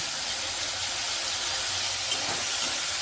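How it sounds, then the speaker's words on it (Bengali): Tomatoes fry in a pan with ginger-garlic paste for a homemade paneer masala curry, giving a steady, even sizzling hiss that holds throughout with no one speaking. "এবার টমেটোটা ভালো করে ফ্রাই করে নেব"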